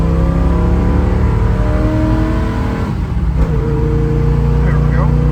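A 1968 Chevrolet Camaro Z/28 engine runs steadily with a low, sustained drone and a slight dip and shift around the middle, loud and continuous, with a voice speaking over it.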